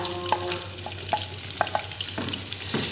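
Four medium onions, finely chopped, fry in a pan for chicken kabsa, giving a steady close sizzle broken by scattered stirring clinks and scrapes.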